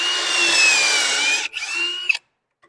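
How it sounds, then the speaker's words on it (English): A power drill whines steadily into wood for about a second and a half, pauses briefly, then drills again before stopping abruptly. "And then I'm going to drill 1 and 2."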